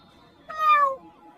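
A schoolgirl imitates a cat's meow with her voice, a single short rising-falling meow, fairly clear and close against faint background noise.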